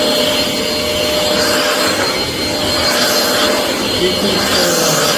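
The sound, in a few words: Rowenta XPert 6.60 cordless stick vacuum cleaner running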